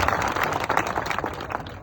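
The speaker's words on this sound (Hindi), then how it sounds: "ताली बजा सकते।" Crowd at an outdoor protest rally in India claps steadily, a dense, even burst of applause from many hands that fills the whole stretch without pause.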